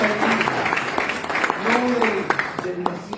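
A church congregation claps in praise during a Rosh Hashanah service, steady broadband applause running throughout while voices shout and sing loudly over it.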